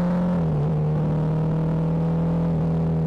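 Road traffic during a commute to work on a stormy, rain-threatened day, heard as a steady, close engine drone with a low rumble that holds evenly throughout and briefly dips in pitch twice.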